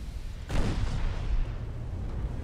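Battleship guns fire in a naval battle video game with dreadnoughts: one heavy, booming blast hits and then rumbles away into a low, rolling background.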